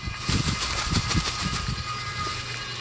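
A Frozen-themed Halloween candy machine runs with candy moving around inside, a continuous rattling, rumbling mechanical churn with soft repeated thumps, moderately close and steady throughout.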